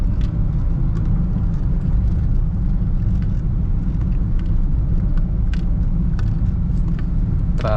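Dense road traffic on EDSA in Metro Manila around midday, a continuous loud low rumble of engines and tyres with occasional faint higher clicks and whooshes, no voices.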